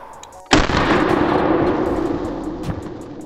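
A single loud, close shot from a Saiga 12 Russian AK-style shotgun fired with lower-power ammunition, a sharp blast followed by a long, rolling outdoor echo that slowly fades.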